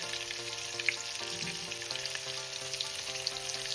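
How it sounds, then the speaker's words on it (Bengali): Potato pieces frying in hot oil with a little turmeric, a steady, dense sizzle that holds close and even throughout, with only faint hints of movement in the pan. "এবার আমি আলুটাকে ভেজে তুলে নেব"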